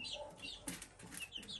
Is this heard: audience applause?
no